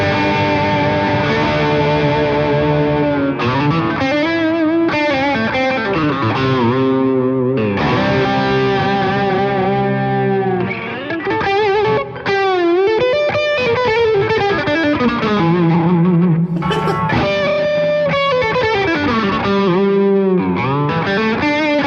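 Electric guitar with effects, an American Pro series Jaguar or Jazzmaster played with the tremolo arm, gives sustained notes that swoop and waver in pitch with repeated dives and bends, loud and close with no talking.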